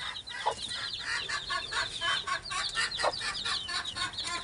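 Hen and her chicks cluck and peep over each other at feeding time, a busy close chorus of short repeated calls with no talking.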